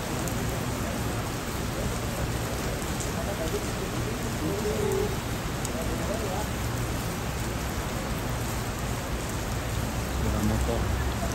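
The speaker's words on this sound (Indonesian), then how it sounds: "Di air sangat deras mengalir ke bawah." Heavy rain pours in Makkah as floodwater rushes downhill from the surrounding hills, a dense, constant roar of water and rainfall filling the scene without letup.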